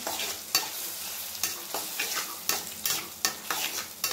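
Drumstick leaves and toor dal being stir-fried in a pan, with a steady sizzle punctuated by about eight sharp, regular scrapes and clacks of a spatula against the pan, close and fairly loud, no voices.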